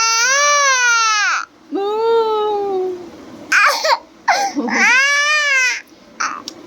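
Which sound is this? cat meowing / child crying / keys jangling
child crying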